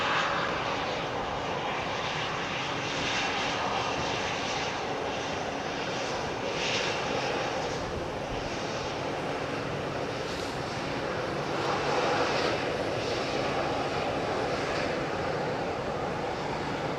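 A Boeing 737-8 with CFM engines landing at London Heathrow on runway 27R, its broad steady engine roar holding loud and close throughout with slight swells, and no talk over it.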